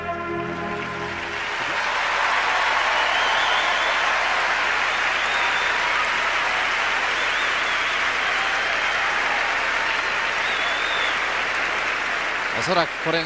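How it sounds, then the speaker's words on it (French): At a figure skating championship, an arena crowd roars with sustained applause and cheering, a loud continuous wall of clapping and shouts that swells after a voice at the start and holds to the end. "Ce sont des hurrahs dans la foule."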